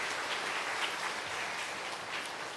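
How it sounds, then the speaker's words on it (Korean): A church congregation at a Sunday worship service claps steadily throughout, a dense, even wash of applause at moderate distance with no voices above it. "우리 박수로."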